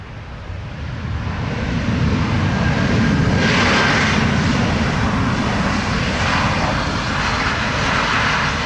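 A JetBlue jet airliner on the runway at Montego Bay in rain gives a loud, continuous engine roar that swells slightly and holds steady, with no voices over it.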